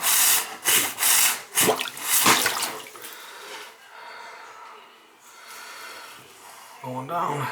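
Water drains down a blocked bathroom sink while a rag plugs the overflow hole, starting with several loud gurgling bursts and then settling into a steadier, softer rushing flow nearby.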